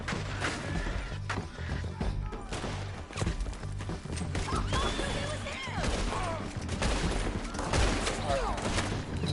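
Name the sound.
gunfire in shootout, video game Red Dead Redemption 2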